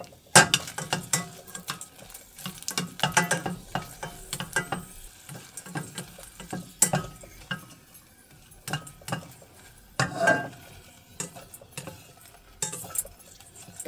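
Six dried red chilies frying in oil in a pan, with a steady crackling sizzle under repeated scraping and clinking of a utensil stirring against the pan.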